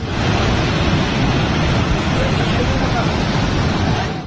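A loud, steady roar of fast-flowing water, broad and unbroken, a rain-swollen river rushing past a nearby bridge in Kotdwar, Uttarakhand.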